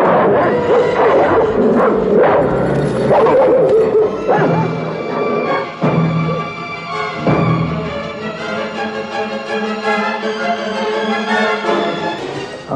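A dog wearing a fierce-looking costume device gives repeated close barks, yips and whimpers over about thirteen seconds, loud and continuous, with a few clear bark bursts standing out.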